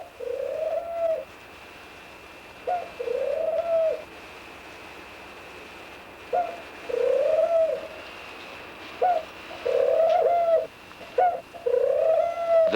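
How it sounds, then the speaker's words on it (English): Male ringdove giving its bow-coo courtship call, a series of about nine or ten rolling coos in irregular bursts, close and clear over a quiet hum, with no voices. "The bow-coo identifies the male."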